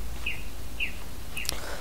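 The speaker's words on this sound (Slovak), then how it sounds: "Aj tie zvuky vtákov by mohli dať akože do Minecraftu." Synthetic bird chirps from the video game Mythruna: three short, high tweets spaced evenly over a steady low ambient hum, with no talking.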